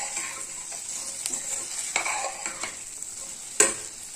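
Sliced okra being stirred with onions in a hot pan, a soft continuous sizzle with a spoon scraping and tapping the metal several times, ending in a sharper clack, close up with no talking.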